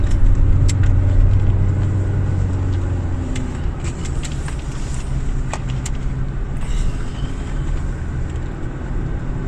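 A car engine labors up a very steep road near Ban Pha Hee and Chang Moob in Chiang Rai, giving a steady, loud, close rumble with a strained low drone and road noise, no voices.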